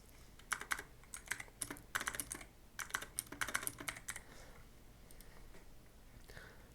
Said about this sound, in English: After that, type here game mode